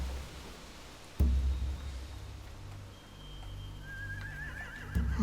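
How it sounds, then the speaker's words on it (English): Horses in a video game scene give a drawn-out whinny, with low thumps and ambient background. "They have horses."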